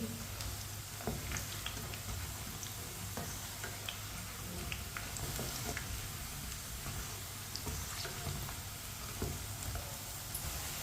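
Potato pakoras frying in oil over a medium flame, giving a steady, close sizzle with scattered small pops and crackles that runs unbroken with no one talking.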